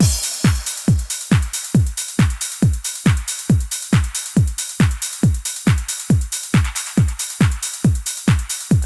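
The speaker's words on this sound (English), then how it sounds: "So once all the drums were recorded in, it sounds like this." A four-on-the-floor trance beat from a drum machine: punchy kick drums thump at a steady driving tempo, with crisp hi-hat and percussion layered between the hits, loud and alone without voices.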